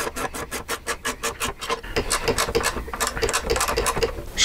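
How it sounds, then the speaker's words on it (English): Ratchet tightening two 10 mm bolts on a motorcycle sport fairing mount, making a quick series of rhythmic clicks followed by denser rasping turns, close and fairly quiet. "Going to snug these up, two 10 millimeter bolts that we just put on."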